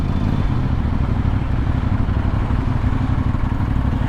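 A 2023 CF Moto NK 450 motorcycle engine runs steadily nearby with a continuous, even low rumble and no break for the full few seconds.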